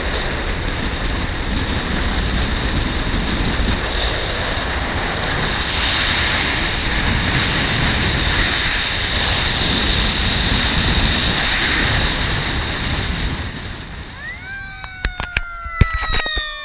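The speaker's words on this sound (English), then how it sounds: "That's the chopper going to get him right now." A rescue helicopter flies overhead on a mountain highway, its loud, steady roar filling most of the recording before dropping away near the end, where a few sharp clicks follow.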